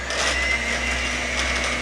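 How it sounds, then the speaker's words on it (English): A hand blender purees butternut squash soup in a pot, a steady, loud motor whir with a high grinding buzz that runs unbroken and close throughout, with no talking over it. "But I figure most everyone has a hand blender at home."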